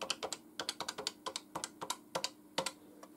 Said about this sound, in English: It's got a nice sound to the keys.